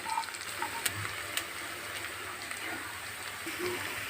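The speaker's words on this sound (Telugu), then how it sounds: "ఇప్పుడు కట్ చేసుకుని పెట్టుకున్న ములక్కాయ వేసుకుందాం" Cut moringa drumstick pieces drop into a pan of frying onions and ginger paste, setting off a steady crackling sizzle with scattered sharp pops and a few clinks.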